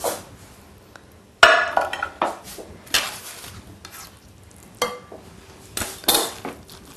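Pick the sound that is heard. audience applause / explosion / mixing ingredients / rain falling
mixing ingredients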